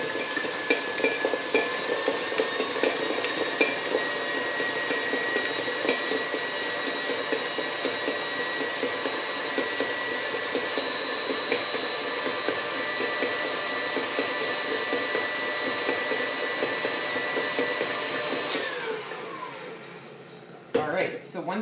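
A stand mixer creams about 170 grams of unsalted butter for cookie dough: a steady, close whirring motor hum with a faint scraping churn that holds evenly for about eighteen seconds, then winds down into a brief clatter.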